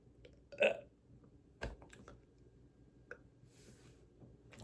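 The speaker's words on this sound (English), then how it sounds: "I feel like a burp is stuck in there" A single short, close burp, followed by a few faint clicks and small rustles in an otherwise quiet room.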